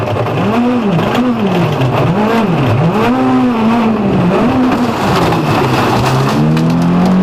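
A Volkswagen rally race car in an S2000 event, its engine loud and close, revving up and down repeatedly through gear changes before settling into a sustained high drone.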